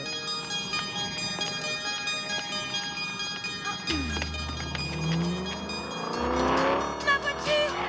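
A car roars off with tires squealing, the engine rising and revving under a busy dramatic music score, loud and close as it pulls away.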